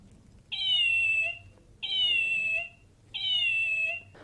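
A hacked toy cat with its wires shorted gives three identical electronic meows, evenly spaced about a second and a half apart, clear and moderately quiet against near silence.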